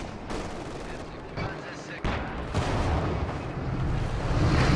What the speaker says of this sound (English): Couple shots connecting with the T-34 there, too.